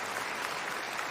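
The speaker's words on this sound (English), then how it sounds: "rounds of applause" Steady applause from an audience honoring Elon Musk, dense and continuous clapping at moderate level with no gaps, lasting about a second.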